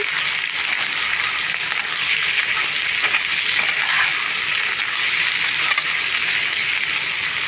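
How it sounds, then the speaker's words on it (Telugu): Prawns fry for a dum biryani, filling the pan with a loud, steady sizzle and crackle that runs continuously with no voices over it. "బిర్యానీలో రొయ్యలు బాగా వేగించుకోవాలి ఇదిగోండి ఈ విధంగా బాగా వేగించుకోవాలి"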